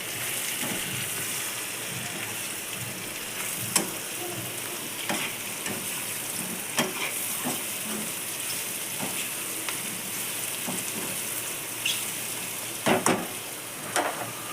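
Cut mushroom pieces and onions fry in oil in a pan for a mushroom curry, a constant close sizzle with scattered spatters and occasional clinks of stirring, no voices.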